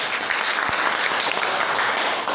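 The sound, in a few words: audience clapping hands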